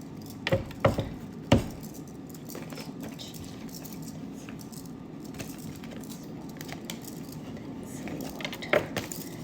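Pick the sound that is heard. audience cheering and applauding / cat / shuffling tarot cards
shuffling tarot cards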